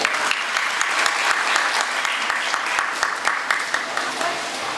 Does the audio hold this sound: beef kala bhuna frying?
no